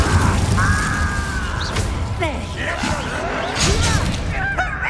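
Incendio fire spell cast in the video game Hogwarts Legacy, a loud rushing burst with booming, crashing impacts layered over dense, continuous combat effects and swirling magical tones.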